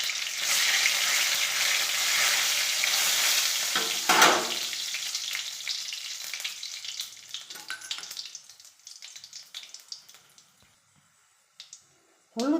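Bay leaf and a dried red chilli frying in hot oil while being stirred, a loud steady sizzle with scraping strokes that thins out toward the end into scattered crackles and near silence.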